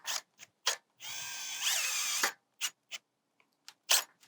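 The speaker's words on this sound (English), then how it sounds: "we're gonna put them through this hole and pin the top" Short ratcheting clicks and a sustained whirring burst from a driver sinking 3/4 inch screws through a roof vent hinge on a glass and twinwall polycarbonate vent assembly, with several separate sharp taps before and after the main run.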